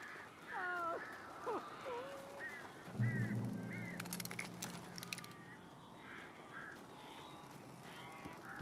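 Birds in the video game Alan Wake Remastered give harsh, honking caws and squawks, several calls in quick succession near the start, under soft voices and game background noise.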